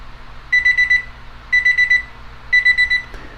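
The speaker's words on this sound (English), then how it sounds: "the alarm is about to sound in 5 seconds" A transparent digital weather-station alarm clock beeps loudly in three bursts of rapid electronic beeps, each burst about half a second long with short pauses between.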